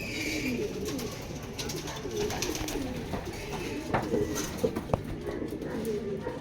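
Racing pigeons back from a training flight at Tiaong, Quezon coo in a low, steady burble, broken by a few sharper knocks and bumps nearby.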